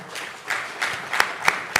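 Sparse applause welcomes a speaker to the podium at the Nigerian launch of the Human Development Report. A few separate hand claps ring out, growing sharper and more spaced toward the end.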